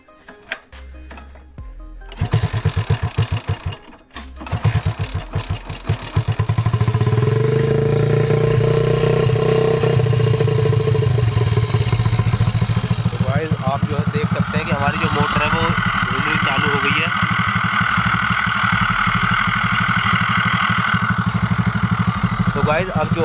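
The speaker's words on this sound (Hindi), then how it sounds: "तो गाइस अब जो है मैं बाइक को स्टार्ट करता हूँ।" A motorcycle engine, used to drive a homemade DC water pump, is cranked a few times and then catches, settling into a loud, steady idle with a clattering mechanical rhythm. People talk over it.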